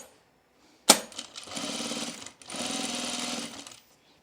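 A sewing machine hems the under vent of a garment, starting with a sharp click and then running in two close, steady buzzing stitch bursts separated by a short pause.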